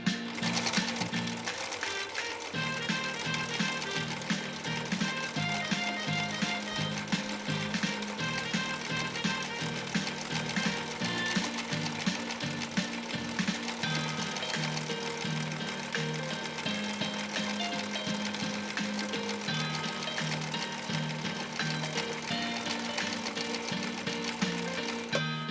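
A 1960s Husqvarna Viking 6440 sewing machine stitches a decorative pattern, a steady, fast mechanical whirring and rhythmic needle clatter that runs continuously and close up, with no talk.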